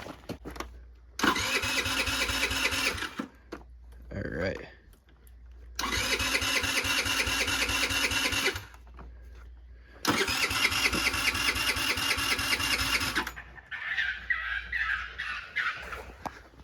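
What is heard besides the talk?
$60 scooter engine starting after jump start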